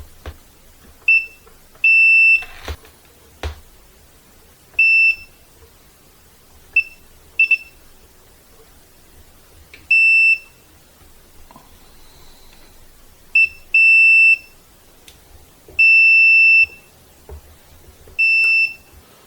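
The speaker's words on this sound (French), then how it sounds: "en mode continuité avec le petit bip" Short high-pitched multimeter beeps in continuity-test mode while checking wiring on a solar power router, some brief and some held for a second, repeating irregularly at close range with small clicks and handling noise between them.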